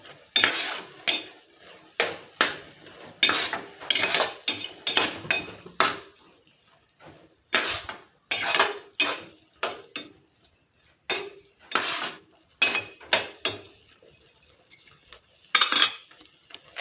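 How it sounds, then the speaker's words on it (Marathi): A metal spoon stirs and fries green gram in a pan over medium heat, making repeated scraping clinks in close, loud bursts with short pauses between them. "तर गॅस मध्यम करून चांगला एकजीव करून परतून घ्यावा"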